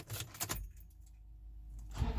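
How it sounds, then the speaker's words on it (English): Keys jangling at close range as a key goes into the ignition of a Toyota FJ Cruiser, with a brief metallic rattle, a quiet stretch, then more handling noise near the end. "I'm gonna put the key in the ignition."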